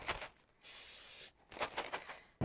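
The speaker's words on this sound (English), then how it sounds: "you spray your popcorn in a bag with vegetable spray" A can of vegetable oil cooking spray gives one sustained hiss of under a second onto popcorn in a bag, framed by softer rustling and handling noises, quiet and close.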